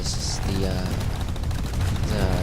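Rapid gunfire bursts from the LC2 Lynx weapon in the video game Planetside 2, dense and continuous at moderate loudness, with a voice talking over the shots.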